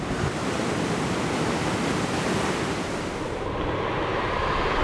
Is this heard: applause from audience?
no